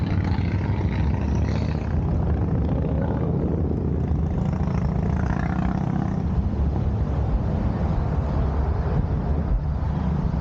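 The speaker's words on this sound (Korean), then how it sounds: "할리 부대들이 또 지나가고 있네요." A group of Harley-Davidson motorcycles rolling past on a hot summer city street, a loud, continuous low engine rumble filling the whole stretch without any pause or talking.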